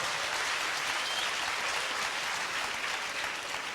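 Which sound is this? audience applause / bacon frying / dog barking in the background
audience applause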